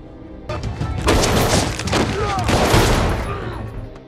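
A rapid burst of pistol gunfire in an action film crackles amid loud clattering and booming, with a voice speaking beneath the chaotic, close-up shooting.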